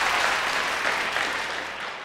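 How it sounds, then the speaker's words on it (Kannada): Studio audience applause on the Kannada KBC quiz show, a continuous burst of clapping from many hands that tapers slightly toward the end. "ಇದಕ್ಕೊಂದು ಚಪ್ಪಾಳೆ."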